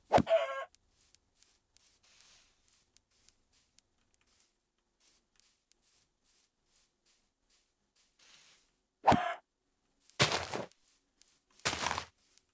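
Chickens in the Minecraft video game make a few short, scattered clucks and squawks: one at the start, then a cluster of three brief bursts near the end, with quiet gaps between.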